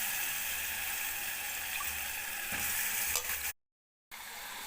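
Cut brinjal (eggplant) sautéing in hot oil in a clay pot, a steady close sizzle with faint stirring scrapes, briefly cut to silence near the end before resuming.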